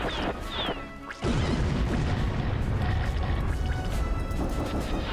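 Sudden heavy crash of missile explosions in the Chicken Invaders Remastered shooter game, bursting loudly after a quiet second and rumbling on densely to the end.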